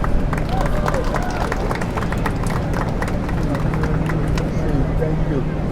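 Steady crowd applause and cheering welcoming New York City Mayor Eric Adams at a public gathering, dense continuous clapping with babble of voices, loud and sustained throughout.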